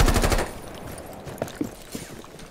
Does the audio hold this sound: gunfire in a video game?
yes